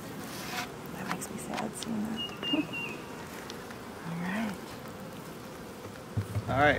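Honeybees buzz around an active beehive, a steady insect drone with passing bees flying close, under quiet movement and brief voices nearby.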